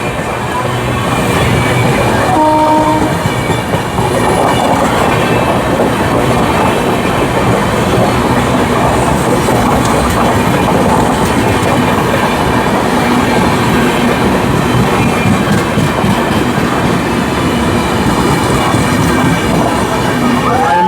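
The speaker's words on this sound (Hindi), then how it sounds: "हमारी ट्रेन सुबेदारगंज में पहुंच चुकी है।" An Amrit Bharat Express train rolls along on a run toward a station, loud and close from inside, with a constant rumble, rhythmic clickety-clack of wheels over rail joints and brief squeals throughout.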